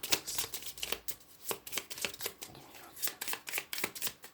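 Tarot cards being shuffled by hand, a quick series of soft papery riffles and taps in irregular bursts, close and fairly quiet.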